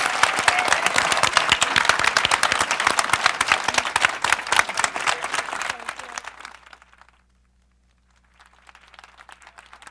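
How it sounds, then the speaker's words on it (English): Audience at a panel event applauds the panelists, dense loud clapping that thins out and stops around seven seconds, then a quieter patch of scattered clapping returns near the end. "please join me in a round of applause for our incredible panelists"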